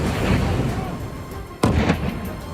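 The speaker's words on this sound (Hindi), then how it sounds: "एक हमले के बाद काला धुआं उठ ही रहा था कि दूसरा बम गिरा और धमाका हुआ और फिर एक और बम गिरा।" Bomb blasts from an Israeli drone strike boom in the distance over a continuous low rumble, with a sharp burst near the middle followed by further thudding impacts.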